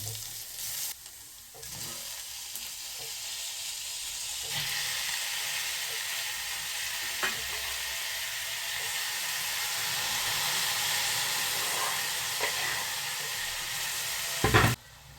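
Sliced onions sautéing with spices in a pan for a Chettinad onion curry, giving a steady, dense sizzle close by with occasional stirring knocks and no talking.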